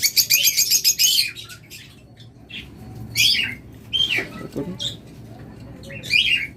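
Lovebirds and cockatiels chirp and squawk in bursts, sharp high calls coming from several birds nearby, with brief pauses between flurries.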